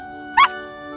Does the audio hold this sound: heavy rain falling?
no